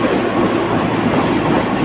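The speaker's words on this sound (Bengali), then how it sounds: "ওই যে দেখো মালা পরানো ট্রেনে জাস্ট ডিপার্চার দেখো তোমরা" A Vande Bharat Express, train 22228 from Guwahati to New Jalpaiguri, garlanded for its run, departs with a loud steady rumble and rolling rail clatter of wagons close by, continuous throughout.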